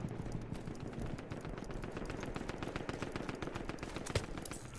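An automatic weapon fires in rapid bursts of sharp, closely spaced shots during an airship battle, with the rattling fire continuing steadily for several seconds and nobody speaking.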